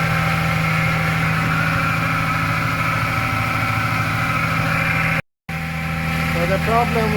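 Toyota Supra mk3 engine running steadily after its stuck injectors were freed, a loud, close, even idle drone with one brief dropout, and a voice speaks over it.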